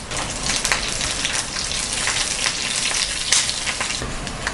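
Curry leaves, garlic and dried red chilli fry in hot oil for garlic chutney, making a loud, continuous crackling sizzle up close with brief spattering pops and stirring.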